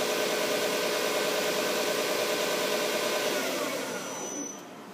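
A Romi 17 by 43 inch CNC combination lathe spindle runs at 2,000 RPM, a steady, loud whirring drone with tonal machine whine that begins to wind down and quiet near the end.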